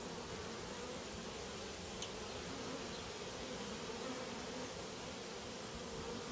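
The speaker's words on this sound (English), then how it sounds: "But the rest of these bees are staying down here pretty well." Swarm of honeybees around a peach tree, a dense steady buzzing hum filling the air throughout, faint but unbroken.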